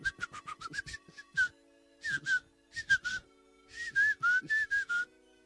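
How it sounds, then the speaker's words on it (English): A person whistles like a bird: quick chirpy trills and short warbling phrases in bursts, close and clear, with no other sounds. "If you know how to whistle pretty well, you can basically have rap battles with birds in the woods."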